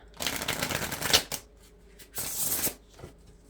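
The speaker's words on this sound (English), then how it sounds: "these get kind of slippery, so I am going to shuffle once." Slippery Feather Oracle cards are shuffled by hand at close range: two crisp riffling bursts, the first with a sharp snap at its end, separated by a short quiet gap, with no speech.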